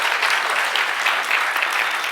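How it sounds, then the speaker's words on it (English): An audience claps for a pair of equations during a talk, a steady dense patter of many hands sustained at even loudness for a couple of seconds with no voices over it. "What do we do when we clap, when we have equations?"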